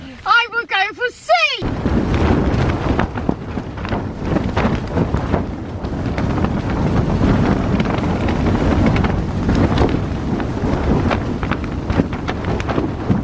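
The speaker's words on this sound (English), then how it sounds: "this is a proper gale out here" A strong gale blasts across a snowy wild camp on Little Mell Fell, buffeting the snow-covered tent and microphone with loud, continuous roaring gusts after a short burst of other sound at the start.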